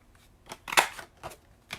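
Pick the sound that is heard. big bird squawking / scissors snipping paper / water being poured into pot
scissors snipping paper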